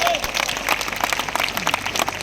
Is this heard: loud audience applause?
yes